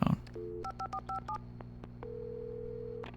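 Phone keypad tones in the Alan Wake video game: a run of short beeps keyed in quick succession, followed by a steady tone, heard alone over a low background hum.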